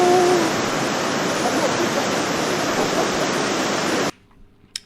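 A small river flows through a deep gorge, making a loud, steady broadband rush of water that continues unbroken before cutting off abruptly near the end.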